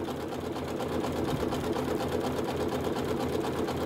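Janome sewing machine running steadily as it stitches a one-step buttonhole, a continuous close, even whirring rattle with no pauses.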